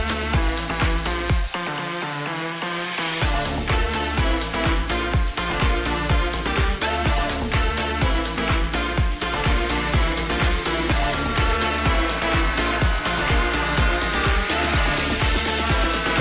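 Stainless steel being sanded with 120-grit sandpaper on a green backing pad, giving a continuous, loud, gritty whirring drone with slight changes in pitch throughout and no talk.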